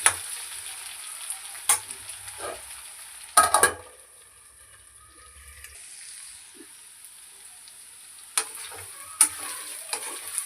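Ginger paste cooks in a covered pan for an Indian potato masala curry, giving a faint, steady high sizzle broken by a few sharp utensil clicks and clatters.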